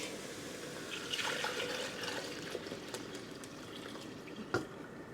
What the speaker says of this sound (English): I'm going to pour all of this into our pot.